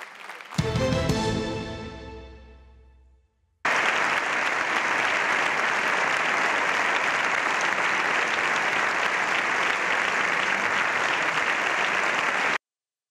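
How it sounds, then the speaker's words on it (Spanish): Members of the Spanish Congress of Deputies give Zelensky a standing ovation, a loud, dense wall of sustained clapping that runs unbroken for about nine seconds after a decaying musical chime. "Se ha llevado una ovación unánime de la clase política española"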